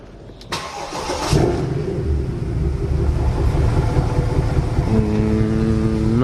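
A salvaged Mercedes C63 V8 with a misfire is started up. A short crank leads into the engine catching, then it settles into a loud, close, rough and uneven idle.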